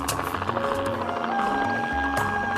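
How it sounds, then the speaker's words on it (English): A helicopter flies low during an African wildlife capture, its rotor chopping steadily and the engine whining and droning, fairly close and continuous. "Pete Otto is considered one of the most skilled helicopter pilots in all Africa."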